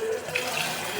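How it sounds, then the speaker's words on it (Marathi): Water is poured into a cooking pot of rice and salt while making khichdi, a steady, close splashing flow of about one second with no talking. "पाणी टाकते"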